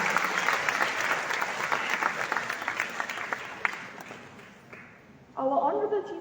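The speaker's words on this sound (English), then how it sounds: "a big round of applause for this state-of-the-art center" Crowd applause at the inauguration of a new IVF and IUI treatment centre, a sustained wash of clapping that thins and fades toward the end before a voice starts speaking over a quieter room.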